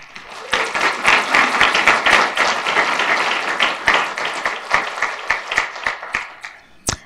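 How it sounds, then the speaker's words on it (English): Audience applause for the new City of Waterloo council at its inaugural meeting, a steady round of clapping from a room full of people that thins into scattered individual claps near the end. "Another round of applause."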